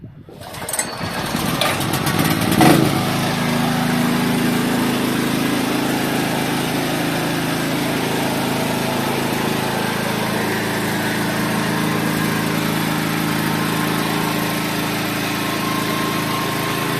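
A Kamastsu KS3800E petrol generator engine starts for the first time with a rough catch, then settles into a loud, steady close-up running drone that continues alone without interruption.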